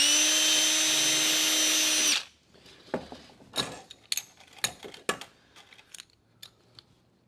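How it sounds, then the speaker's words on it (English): A sharp drill bit bores through sheet metal for a lamp project in a loud, high whine lasting about two seconds, then stops abruptly, followed by scattered small clicks and metallic handling noises. "I like a nice sharp drill bit"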